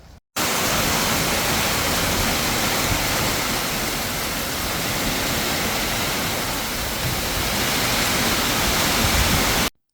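Steady rain falling outdoors in a garden, a dense continuous hiss that holds evenly for the whole stretch, fairly loud and close, with no voices.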